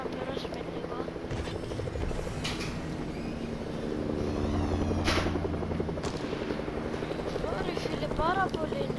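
Helicopter in the Fortnite video game, a steady rotor and engine drone running throughout at fairly close range, with game effects and a person talking over it.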